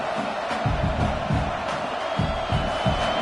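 A stadium crowd in the College Football 26 video game roars continuously, with rhythmic chanting swells at a loud, close level for an ASU vs Oregon matchup.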